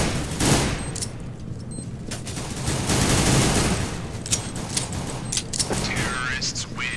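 Burst-fire gunshots in the video game CS:GO, rapid cracking volleys repeating through a busy firefight, with a player talking over them.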